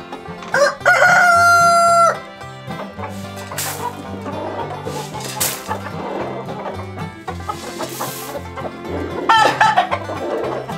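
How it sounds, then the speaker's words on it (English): Loud rooster crowing opens and returns near the end, with hens clucking close by and rustling movement in between, in a backyard chicken coop. "These roosters are getting kind of rowdy."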